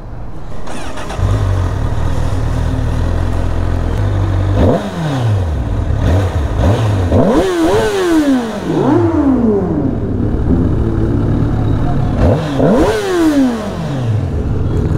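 Sport motorcycles, including a Honda CBR, rev hard nearby at a Sunday riders' meet, engines roaring up and down in repeated sharp throttle blips over a steady idle rumble, loud and close throughout.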